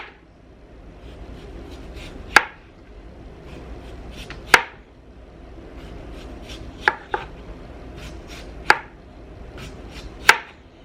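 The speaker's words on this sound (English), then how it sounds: "just try is to slice your potatoes thin" A knife slices potatoes thin on a cutting board, sharp isolated clacks every couple of seconds with faint scraping between, close and clear.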